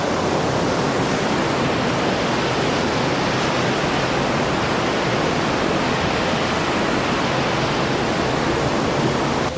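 The Yamuna river near Yamunotri rushes loudly and steadily, a dense, unbroken roar of churning water with no voices.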